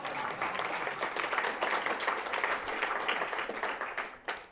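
An audience at an award ceremony for a diplomat of the year bursts into steady, dense applause that holds for several seconds before thinning out at the end.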